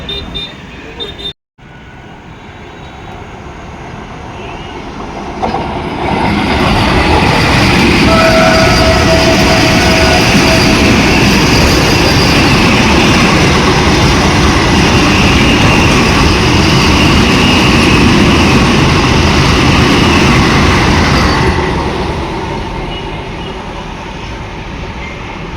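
Thiruvananthapuram–Kasaragod Vande Bharat Express roars past at close range, a loud sustained rumble and rush of wheels lasting about fifteen seconds before fading, heard from a train waiting near Kozhikode.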